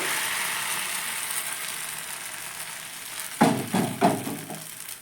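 Rice flour and maida batter hits a hot oiled pan for thin chakli pitha, a steady frying hiss that flares into a few louder, crackling bursts near the end.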